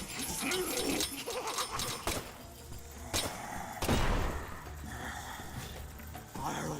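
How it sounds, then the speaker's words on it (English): Several explosion effects from the video game Deadly Premonition 2 pile on top of one another in loud, broad bursts, with a heavier boom near the middle over a busy game soundtrack. "all the explosion sound effects went in a weird, like, overlapping form"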